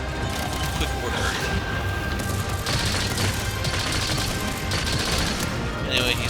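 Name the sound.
volley of gunshots in the video game Monster Hunter Rise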